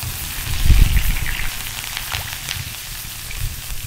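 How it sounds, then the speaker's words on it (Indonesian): Sliced shallots frying in a pan for Minang spiced beef soup give a steady, dense sizzle at close range, with a brief louder burst near the start and no talking. "Lanjut kita goreng bawang merah yang sudah kita iris."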